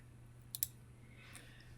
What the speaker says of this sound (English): right mouse click on the file